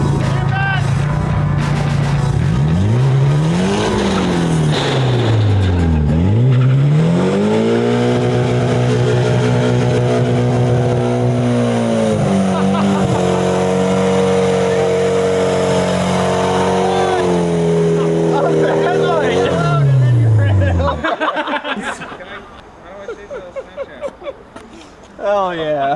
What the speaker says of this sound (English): Finally get to drift the Tuerck driveway.